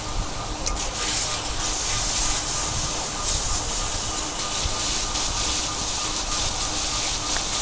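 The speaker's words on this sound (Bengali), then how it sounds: "মশলাগুলো খুব ভালোভাবে একসাথে কষিয়ে নিব" Garam masala, garlic, ginger and cumin pastes sizzle in hot oil while being sautéed for chickpea curry, giving a steady, close hiss with faint scraping and no talk over it.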